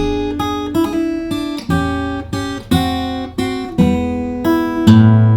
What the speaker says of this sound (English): we're getting started with a very cool classic turnaround just to kick things off